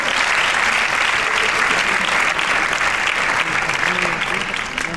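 Sustained, loud applause fills the hall at an awards gala honoring literary and journalistic work, a dense, even wash of many hands clapping that barely wavers, easing only slightly at the end.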